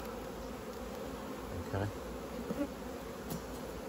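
Honeybees buzz in a faint, steady hum while hive frames are pushed across during a calm beehive inspection, with a brief spoken word and a few small knocks partway through.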